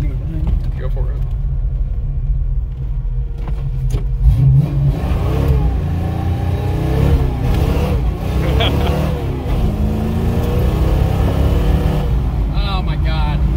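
A V8-swapped 1985 Chevrolet S10 pickup accelerates hard with its tires spinning, a loud steady engine roar and rumble filling the cab throughout while people talk over it.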